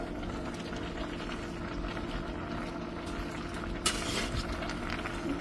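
Green beans and ham simmer in a pot for a green bean casserole, a steady bubbling, boiling wash with a brief scraping stir of a utensil partway through; no voices.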